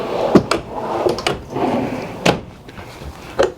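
Solid wood drawers in the kitchen of a 2019 Northwood Arctic Fox Classic 25R travel trailer slide open and shut several times, each with a close wooden knock and short rolling slide.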